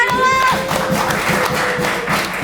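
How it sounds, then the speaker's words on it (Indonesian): Hands clapping in quick, steady rhythm as a short burst of applause from a small group, close and fairly loud, with a brief voice at the start. "Wah, tepuk tangan dulu."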